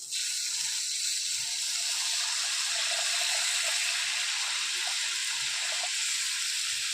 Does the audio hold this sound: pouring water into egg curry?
yes